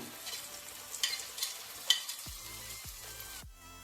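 Raisins and cashews fry in oil in a pan for kabli polao, a soft steady sizzle broken by a few clinks of stirring and scraping before the sound drops away at the end.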